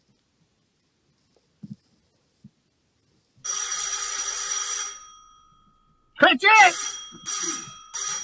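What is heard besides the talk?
doorbell ringing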